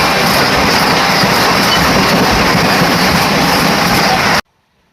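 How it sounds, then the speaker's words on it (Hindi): Two trains crossing at speed as the Mumbai Central–Ahmedabad Vande Bharat Express rushes past, heard from the Okha–Rameshwaram Express: a loud, dense rolling roar with rattling wheels that holds steady and then cuts off abruptly. "Train number 22961 Mumbai central Ahmedabad Vande Bharat express के साथ में क्रॉसिंग।"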